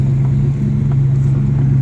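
Heavy trucks roll in and out past large clay piles at Addicks Reservoir, a steady low engine rumble with a strong droning hum, continuous and fairly close, with no talking.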